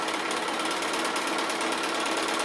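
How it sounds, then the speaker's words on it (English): A sewing machine with regular thread stitches a quarter-inch seam in a steady, fast, dense mechanical whir that runs loud and unbroken, with no voices over it. "So I'm just going to sew 1/4 inch either side of that centre diagonal line there."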